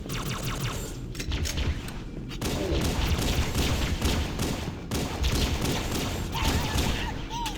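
Gunfire rattles continuously in the video game Halo Combat Evolved, with dense thumps and bursts in the foreground and a voice talking over the action.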